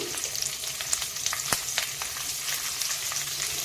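Urad dal, garlic cloves and green chilies fry in hot oil for a coriander-leaf chutney, giving a dense, bright sizzle with scattered pops and one louder clack partway through, close and steady, with no talking.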